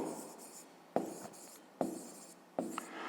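Pen writing on paper during a fifth-grade maths lesson on polygon diagonals: four sharp onset strokes followed by short scratchy trails, close and quiet, with no talking.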